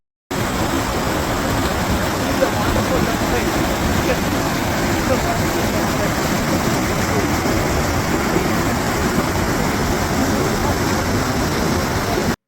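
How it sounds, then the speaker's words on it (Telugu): Small waterfalls along the trail to Steall waterfall in Scotland give off a constant, loud, unbroken roar of falling water that holds steady throughout. "మెయిన్ వాటర్ ఫాల్కి రీచ్ అయ్యేంత వరకు ఇలానే చిన్న చిన్న వాటర్ ఫాల్స్ అనేవి చాలా వరకు కనిపిస్తూనే ఉంటాయి"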